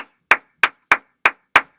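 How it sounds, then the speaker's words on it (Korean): Five sharp hand claps, evenly spaced about a third of a second apart, loud and close in a quiet room with no talking. "박수를 칠 때 제가 이렇게 치는 소리가 나죠"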